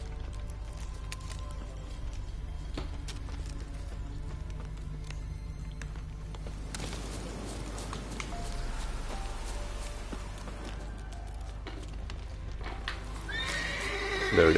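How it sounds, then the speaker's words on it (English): Horse neighs and hoofbeats from The Witcher 3: Wild Hunt, with clip-clopping hooves and whinnies heard at a moderate distance amid steady game ambience, the sound growing busier toward the end. "Dismount the Roach and try and find a horse."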